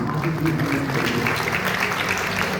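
An audience claps together at a gathering of monks in Ahmedabad, a dense, steady round of applause with a faint voice underneath.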